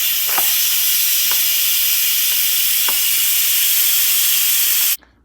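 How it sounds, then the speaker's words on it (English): Steam hisses loudly and steadily from an Instant Pot pressure release valve during a taco pasta cook, a broad continuous rush with a few faint clicks, cutting off abruptly near the end. "we have to carefully release the pressure by opening the valve"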